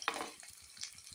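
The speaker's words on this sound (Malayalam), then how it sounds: "എണ്ണ ഒഴിച്ച് ചൂടാൻ ഉള്ളിയിട്ട്" Onions frying in hot oil: a soft, close sizzle with light crackles and pops over a brief moment.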